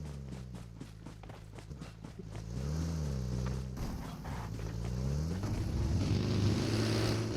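A car engine in a video game, droning low and steady with its pitch repeatedly swooping up and down as the vehicle accelerates and shifts, alongside scattered clicks and thuds. The sound grows louder over several seconds with no speech.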